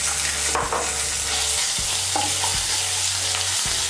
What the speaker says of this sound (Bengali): হিংটা দিয়ে একটু নাড়াচাড়া করে নিয়ে এর মধ্যে আমি আদা বাটা দিয়ে দেব।